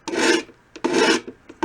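Bearing edge of a Gretsch drum shell being reshaped to a round profile: two firm rasping strokes of abrasive over the wooden shell edge, close and loud, followed by short light scrapes.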